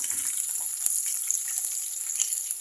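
Ginger frying in a hot pan, the first step of a banana fry, crackles and sizzles steadily up close with scattered sharp pops, and no one speaks.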